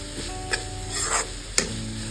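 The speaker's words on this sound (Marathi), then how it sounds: "तर आता छान तेलावरतीच मी हे छान भाजून घेते।" Kudyachya sheng, a wild monsoon vegetable, frying in oil with spices in a pan, a soft steady sizzle with a few brief scrapes of stirring and no talk.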